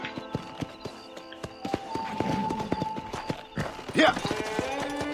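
Horse hooves clip-clop steadily in the Western video game Red Dead Redemption, a quick run of even hoof strikes over tonal game music and background voices.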